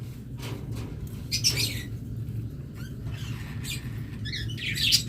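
Small chirps and tweets from a pair of lovebirds, a split Albino lovebird pair among other birds, sound in short bursts over a steady low hum and background chatter from nearby birds.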